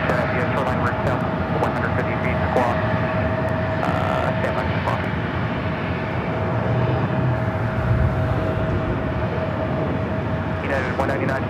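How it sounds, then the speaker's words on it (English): A Delta Boeing 757 takes off from runway 24 Left at LAX, its jet engines giving a loud, steady roar that holds throughout, with faint radio chatter mixed in. "Delta 757 it taking off, 24 left,"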